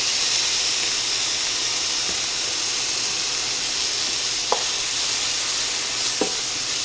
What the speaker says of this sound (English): we're about 1 minute out from these vegetables being cooked. I've got some garlic here.